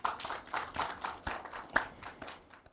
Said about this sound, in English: So another round of applause.